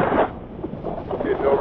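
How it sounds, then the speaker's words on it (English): Rough, gusty wind roar buffets the microphone in uneven surges while riding a 2021 Harley-Davidson Forty-Eight without a windshield at about 70 miles an hour. "Going 70 miles an hour. it's a little windy."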